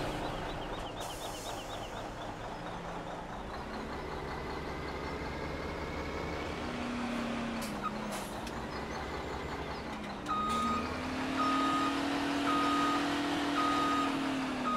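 A truck in Farming Simulator 17 idles with a low engine hum, then starts backing up with evenly spaced reversing beeps that ring out loudly in the second half over the engine's drone.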